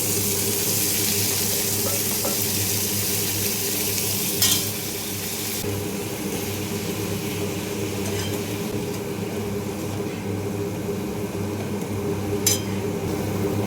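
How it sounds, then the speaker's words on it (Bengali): Spinach stirred and fried in a pan crackles with a loud, constant sizzle, broken by a couple of sharp scraping clicks from the stirring, with no speech over it. "তারপরে একটু নাড়াছাড়া করে নেবো পালং শাকটা একটু কমে এসছে"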